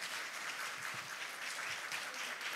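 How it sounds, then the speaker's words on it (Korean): Steady, even applause from a forum audience for five speakers at an international arts education forum, a dense continuous patter of many hands heard from a distance at moderate volume. "다시 한번 이 다섯 분께 큰 박수 부탁드립니다"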